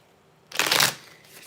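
A deck of playing cards riffled in a single short burst of crisp fluttering slaps, close and fairly loud, with quiet room tone before and after.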